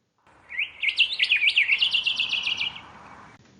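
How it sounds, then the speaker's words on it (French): A small bird sings a quick, warbling run of high chirps and trills, clear and fairly close, lasting a few seconds over quiet background. "le chant d'un petit oiseau"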